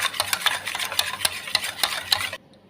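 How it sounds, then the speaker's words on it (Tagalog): A sugar and flour mixture stirred by hand in a pan, with a steady run of rhythmic scraping strokes, close and fairly loud, that stop abruptly near the end. "Mix lang natin ito, guys. Mix. Mix, mix, mix. Hanggang sa matunaw yung mga sugar at saka yung flour niya."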